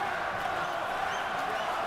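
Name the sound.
boxing crowd urging on fighter Pascal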